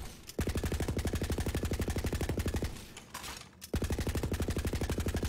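Rapid automatic rifle fire from a bipod-mounted rifle in Borderlands 3, loud and evenly spaced shots in two long bursts separated by a brief quieter pause.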